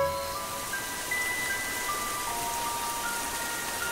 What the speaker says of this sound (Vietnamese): trời bắt đầu đổ mưa to.